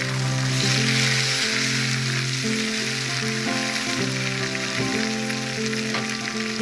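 Tomatoes added to browned onions sizzle loudly in a pan, a continuous bright hiss and crackle with a sustained musical tone running underneath.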